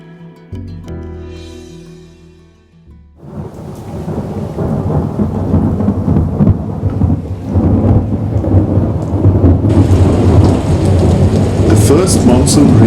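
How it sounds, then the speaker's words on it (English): Heavy monsoon rain pours down on a forest, a steady loud downpour on leaves and ground with rolls of thunder, after a brief quieter opening of birdsong and gentle tones. "First monsoon rains bring the forest alive."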